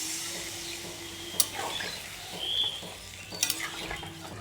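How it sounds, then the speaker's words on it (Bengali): Cauliflower and potato curry sizzles steadily in a pan as water is poured in, with a couple of sharp clinks of a utensil against the pot over the continuous frying hiss. "তো এখানে মা ফুলকপি দিয়ে আলু দিয়ে ভালো করে কষিয়ে নিয়েছে। এখন মা দিয়ে দিচ্ছে জল।"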